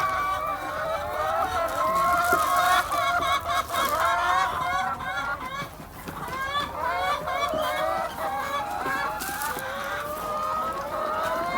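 A flock of about two hundred laying hens on a small egg farm clucks and squawks continuously, dense and close, with overlapping calls throughout.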